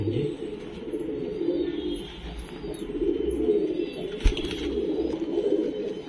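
A Sendha pigeon coos in soft, low, repeated phrases close by, with faint background noise and a brief thump partway through.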